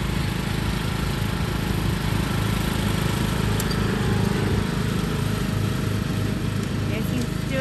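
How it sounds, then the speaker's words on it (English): A riding lawn mower with a newly replaced battery drones steadily as it cuts a large yard, its engine noise constant throughout while someone talks over it. "there he is, mowing our yard"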